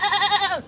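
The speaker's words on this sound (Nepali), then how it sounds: "यहाँ बाख्रा नि कराइरहेछ" A goat bleats once at close range: a short, loud, wavering cry that trembles and then drops off at the end.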